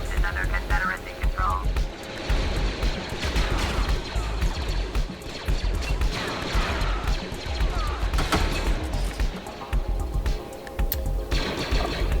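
Rapid blaster fire from a unit armed with four wrist blasters in a Battlefront 2 Clone Wars mod crackles almost continuously, loud and busy with battle noise layered beneath.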